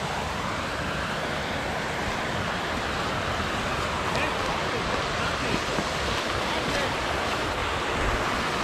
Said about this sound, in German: Da ist wieder so ein schöner kleiner Wasserfall.